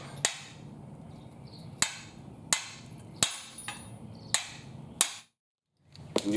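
A hammer tapping a rusted swing arm bolt on a Virago motorcycle gives six sharp metallic strikes at roughly one-second intervals. Each one rings briefly against a quiet background.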